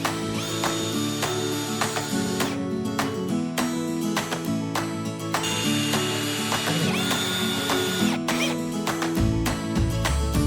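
Screws are driven into a wooden garden bed frame, giving a continuous close mechanical whir with ratcheting clicks for about ten seconds, and no talk.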